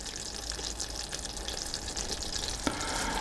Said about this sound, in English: And now I'm going to sprinkle in my salt and stir that in.